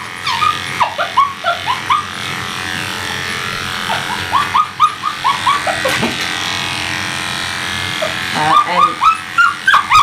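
An extremely high-strung dog being groomed barks and yelps in rapid repeated bursts, close and loud, over a steady electric clipper hum.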